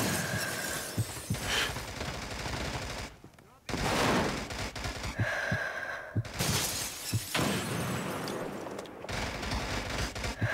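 Grenade blasts and rapid gunfire from a multiplayer shooter match on an inner hospital map, loud and dense with shattering crashes and bursts, a brief lull near the middle, and voices talking over the action.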